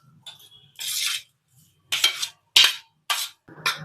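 Coriander leaves and salt are mixed with other ingredients in a bowl, producing a series of short bright clinks and scrapes of a spoon against the bowl, separated by brief pauses.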